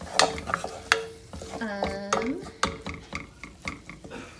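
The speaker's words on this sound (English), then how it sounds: "and then stir that around, really incorporate that pretty well" Cauliflower rice with lime zest and juice, in a keto coconut cilantro lime dish, is stirred in a pan: a string of close scraping and tapping strokes at an uneven rhythm, with no talking.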